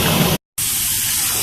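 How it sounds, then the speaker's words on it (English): Tap water rushing hard over rice being rinsed for a steak and country greens dinner, a loud steady hiss that cuts out for a moment and then resumes. "So I'm going to rinse this rice off and put it on"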